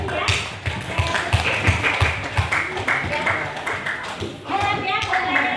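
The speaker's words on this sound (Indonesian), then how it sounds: "Oke, tepuk tangan untuk saudara Yusril" A classroom of students claps for a classmate, a burst of scattered, moderately loud applause with sharp hand claps, mixed with a teacher's voice talking over it.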